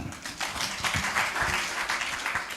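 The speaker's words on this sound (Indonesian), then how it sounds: "Tepuk tangan." Church congregation clapping together, a moderately loud, rhythmic patter of many hands sustained briefly without voices.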